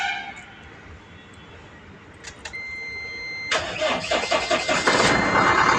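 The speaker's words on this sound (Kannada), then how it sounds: "ಈಗ 3ನೇ ಗಾಡಿ ಸ್ಟಾರ್ಟ್ ಮಾಡೋಣ" A vehicle engine cranks briefly after a few faint clicks, then catches and settles into a steady, fairly loud idle close by, with no talking over it.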